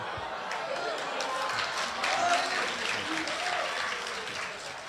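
Audience at a live crosstalk comedy show applauding, a dense, fairly quiet wash of clapping that holds steady and swells slightly midway.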